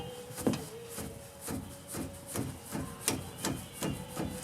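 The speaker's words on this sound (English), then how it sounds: "we'll take our 10mm wrench, tighten these down" Hand wrench ratcheting down brake caliper bolts on a car or truck during a brake pad and rotor job. About nine evenly spaced short clicks and rasps come up close and soft, with no talking.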